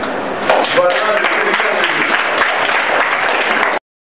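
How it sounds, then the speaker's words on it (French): A diploma-ceremony audience claps loudly in a sustained burst of applause, close and even, with some voices mixed in before the sound cuts off abruptly. "ces filles méritent d'être applaudis très fort"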